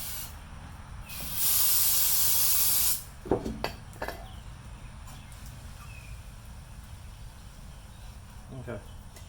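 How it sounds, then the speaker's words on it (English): Brake cleaner sprayed onto a Mazda B2200 brake rotor: a steady, loud aerosol hiss for about a second and a half, followed by scattered clicks and light clatter in a quiet room. "We're going to spray it down with some brake clean"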